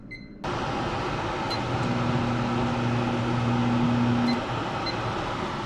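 A kitchen exhaust fan runs with a steady, loud broadband whoosh and a low mechanical hum that starts abruptly and continues evenly to the end.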